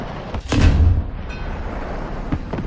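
A single loud gunshot in a video game, a close booming blast that decays over about half a second, followed by quieter background game noise.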